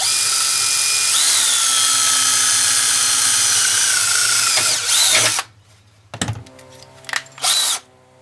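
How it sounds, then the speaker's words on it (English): A power drill bores a hole through a metal dryer vent during a repair, a loud steady whine that cuts off and then returns in several short bursts. "I'm going to go ahead and drill this hole diagonally from the other one now"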